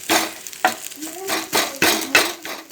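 Cooking food in a pan is jabbed with a tumbler, giving six or so sharp, close thuds and scrapes at a steady pace over faint sizzling.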